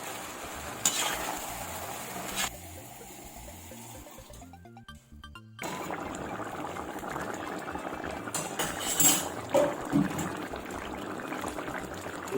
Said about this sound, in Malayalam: ഇപ്പം നല്ല അടച്ചു വെച്ചതിന് ശേഷം നല്ലതുപോലെ ഇളക്കി കൂട്ടി വെച്ചിരിക്കുക.